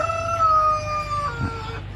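Native H'mong chickens on a hillside farm, with a rooster crowing loud and close in a long drawn-out call over steady background clucking and farmyard noise.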